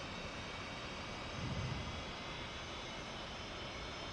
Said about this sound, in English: Can hear your aircraft starting up next to me